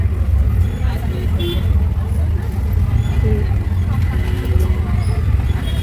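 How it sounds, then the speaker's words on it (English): A road traffic jam on a narrow street: a dense, continuous low rumble of idling cars and buses, with faint horn toots in the background and someone talking over the noise. "Guys, here also we are stuck in traffic. I think there's a traffic jam ahead."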